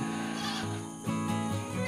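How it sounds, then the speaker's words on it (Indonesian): Two-week-old goat kids bleat on a breeding farm in Pidie, Aceh, with several close, wavering cries in quick succession over a busy, noisy barn background. "ada anakan kambing yang baru berumur 2 minggu"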